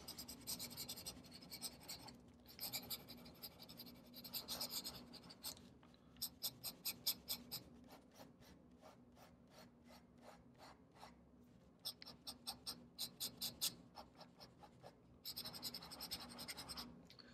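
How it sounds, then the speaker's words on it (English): A Namiki Emperor fountain pen scratches quickly across paper in bursts of rapid strokes, close and quiet, with brief pauses between runs of rhythmic scribbling. "so I could try some fast writing."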